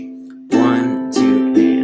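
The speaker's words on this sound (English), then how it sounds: "We're going to start with a quarter note into an eighth note and then finish on the up strum." A strummed rhythm of down, down, up strokes, with three bright chord attacks ringing out over a sustained low note, each strum close and clear with no talking.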